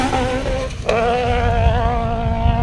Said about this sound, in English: can hear that that little Swift really hunting for grip as it's coming up the hill there.